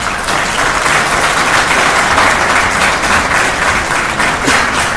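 A large audience at an Army field artillery battalion ceremony applauds undergraduates, a dense, steady wash of clapping that stays loud and continuous from start to finish with no talk over it.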